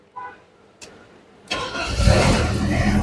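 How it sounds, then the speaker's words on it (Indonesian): A 1998 BMW 318i E36 with the 1.8-litre M44 engine starts up: a few faint clicks, then the starter cranks briefly and the engine catches, settling into a loud, steady idle close by. "Oke, sekarang kita coba nyalakan mobil."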